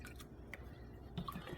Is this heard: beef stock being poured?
yes